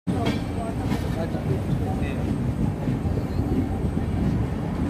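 An SF Special train from Gorakhpur to Secunderabad rumbles steadily on the rails as it comes into Kazipet junction, a continuous broad rolling noise heard from on board with faint background voices.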